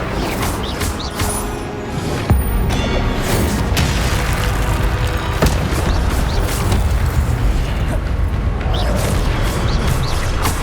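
Spell-casting effects in the video game Hogwarts Legacy, including the Incendio fire spell, sound as loud, repeated bursts and whooshing impacts over a continuous busy game soundscape.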